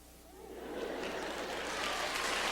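An audience breaks into clapping that swells from quiet to a steady, dense patter over a couple of seconds, heard from within the room.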